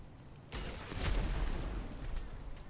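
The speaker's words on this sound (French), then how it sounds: "T'as senti l'explosion?" Explosion in a hide-and-seek match in a video game set around a fire station: a sudden deep boom opening into a long, loud rumbling roar that sustains and slowly tails off, with no talk over it.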